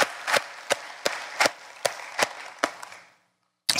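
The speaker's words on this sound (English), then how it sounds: "Let's give them one more round of applause as you take your seats." A church congregation applauds as people take their seats. Sharp, evenly spaced claps ring out over a softer bed of scattered clapping, fade into silence, then a final burst returns.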